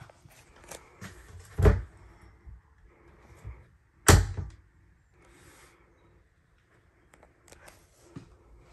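Drawers and cupboards in a 2024 Brinkley Model Z Air 295 RV bunk room knock and thud shut, two sharp loud closes among softer sliding and clicking handling sounds, close by with no talk.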